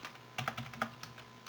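Someone types on a computer keyboard, with a short burst of several soft, close key clicks including a space bar press, and no talking over it.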